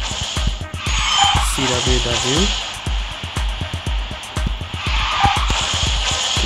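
Car engine drone with brief tyre screech as a kart drifts in the QQ Speed Mobile racing game, repeated clicking interface blips and game effects, with a player speaking briefly over the mix.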